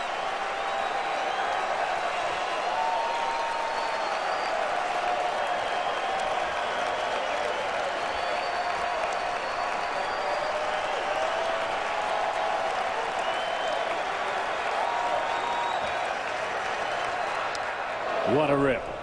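Baseball crowd at Fenway Park for a 2008 ALDS playoff game between the Angels and Red Sox, on its feet for pitcher Jon Lester late in the game, with sustained applause and cheering that roars steadily throughout, swelling near the end.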